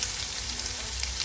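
Onion frying in a pan for a North Karnataka sprouts curry gives a short, soft, steady sizzle with no voices.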